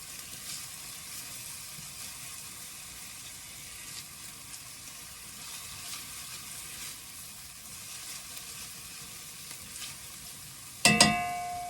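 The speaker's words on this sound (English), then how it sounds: "So keep sauteing this," Onions and garlic sauté in a pan for pasta fagioli soup, a steady broadband sizzle holding throughout, with a sharp clatter or clank near the end.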